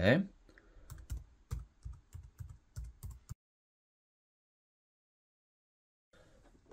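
A web address is typed on a computer keyboard, a run of close, fairly quiet key clicks in an uneven rhythm. A long stretch of silence follows, then faint noise returns near the end.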